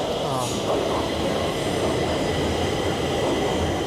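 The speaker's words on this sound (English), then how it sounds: "there's a train coming. You're not gonna hear anything." A subway train roars loudly into a Stockholm subway station, a continuous heavy rumble with a faint high squeal, drowning out everything else.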